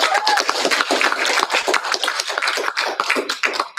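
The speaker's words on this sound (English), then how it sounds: "let's give them all a giant round of applause" Audience applause for student and faculty readers at a literary reading series, a steady patter of many hands clapping at close to moderate distance, sustained for several seconds with no speech.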